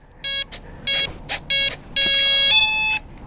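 A sequence of electronic tones from an FMS T-28 800mm model plane's speed controller at startup, several short beeps followed by a longer sustained beep, clear and close with no talking.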